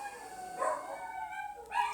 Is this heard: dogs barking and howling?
yes